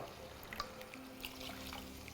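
Water is poured into a pot on a gas stove while making jeera rice, a soft steady trickle and drip, fairly faint and close, with no talk over it.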